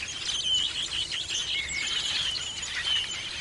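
Songbirds in a nature documentary chirp and twitter continuously in bright, overlapping calls, with soft background ambience and no speech.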